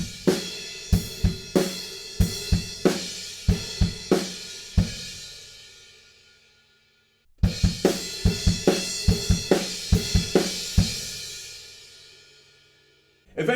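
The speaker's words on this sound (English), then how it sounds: "we go into the bridge, which is really similar to the chorus, but we're going to add a couple of extra crash cymbals." A drum kit plays the bridge of a song with punchy kick and snare hits and crashing cymbals, two loud phrases that each ring out and decay, with no voices over them.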